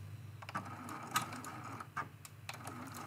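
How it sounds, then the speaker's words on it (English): A sewing machine backstitches the corners of a quilt ornament in short bursts of rapid mechanical clicking, quiet and close, with brief pauses between the runs. "We're going to backstitch twice."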